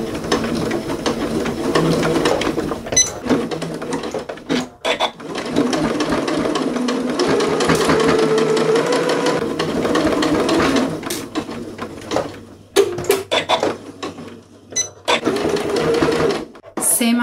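A sewing machine top-stitches a fabric face mask in quick running bursts of rapid needle clatter, pausing between passes, with a voice talking over parts of it.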